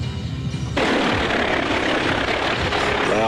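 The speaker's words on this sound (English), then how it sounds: "Loud helicopter noise, sounded like it was right over the trailer." A loud helicopter passes close overhead above a trailer, a sudden broadband rotor and engine roar that starts abruptly and holds steady and heavy.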